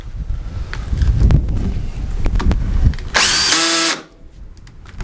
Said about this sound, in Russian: берем сверло десяточка для дерева, обычное сверло